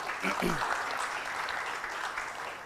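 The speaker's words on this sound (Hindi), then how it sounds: "उनके लिए हम लोग जोर से एक बार ताली बजा सकते हैं।" An audience applauds steadily with a dense patter of clapping at an inaugural session, while a voice speaks briefly over it near the start.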